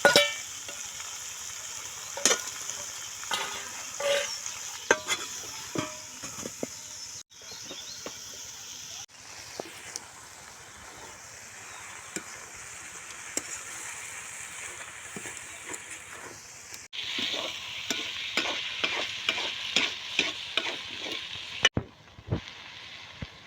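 Fish frying in oil crackles at low level throughout, broken by repeated scraping and clinking of a utensil stirring the pan.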